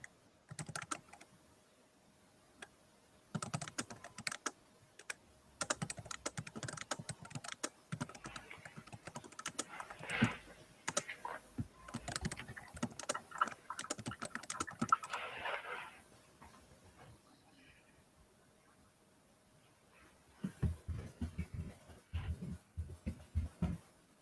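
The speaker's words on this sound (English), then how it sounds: "let me type something in for Tom" Quiet computer keyboard typing in bursts of rapid key clicks, with pauses between runs and a longer gap before a final flurry, close and soft with no one talking.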